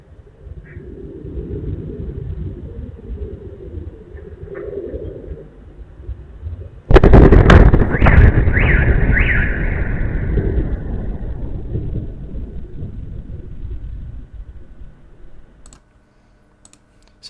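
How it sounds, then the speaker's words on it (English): A distant explosion near Saratov, Russia, roughly six kilometres away, breaks a quiet hum with a sudden loud boom. A long rolling rumble follows and slowly fades back to near silence. "So that is the explosion coming from Engels, the city, or sorry, from Saratov."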